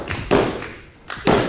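A pro wrestler lands a shooting star press at a Fight Kingdom event, giving two heavy thuds on the mat about a second apart over ringside crowd noise.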